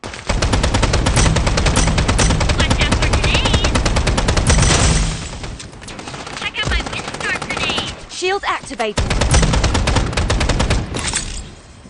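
Rapid automatic gunfire from the shooter game Strinova, long loud bursts of repeated shots with brief pauses between strings, some bursts close and dense, with a short lull midway.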